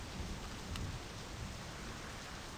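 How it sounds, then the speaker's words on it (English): A steady hiss of rain falls in the video game My Summer Car. The rain is soft and continuous, with no talking over it. "And we'll also have the sounds of the rain."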